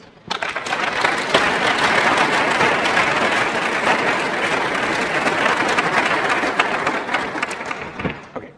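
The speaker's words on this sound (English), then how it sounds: "please give our panel a large round of applause" Large conference audience applauding a panel on programming languages, dense steady clapping that fills the room for several seconds before tapering off at the end.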